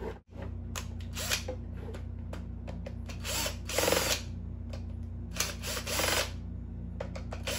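Small power screwdriver or drill whirring in short bursts to back out screws from an electric fan under repair, with clicks and ratcheting between spins over a steady low hum.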